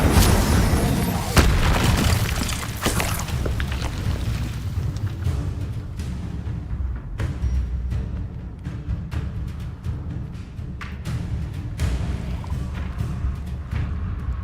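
A fire spell cast in the Hogwarts Legacy video game, heard as a loud booming burst of flame and impact at the start, followed by continuous rumbling combat effects and further crackling bursts throughout.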